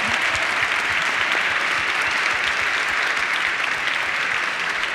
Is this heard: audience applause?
yes